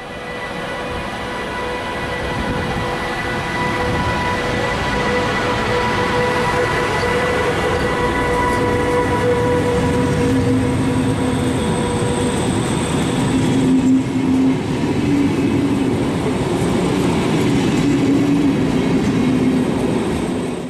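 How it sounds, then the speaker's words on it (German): A Bergen Railway midday passenger train leaves Oslo and runs on through the suburbs, with a continuous close rolling rumble, steady clatter and thin, high wheel squeals drifting in and out. "Gegen 12 Uhr steht der Mittagszug zur Abfahrt bereit und begibt sich kurze Zeit später auf die"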